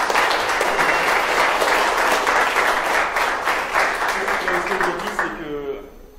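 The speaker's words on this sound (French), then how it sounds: "Alors on l'applaudit bien fort." Loud audience applause for a startup at an accelerator promotion event in Marseille, sustained clapping that holds steady, then tapers off and fades out at the end.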